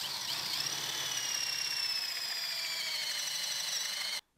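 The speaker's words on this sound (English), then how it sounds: "And now that you've got your hole drilled," A power drill boring a hole in wood with a Forstner bit during a beginner woodworking project. It gives a steady, high-pitched whine with a faint shift in pitch, then stops abruptly near the end.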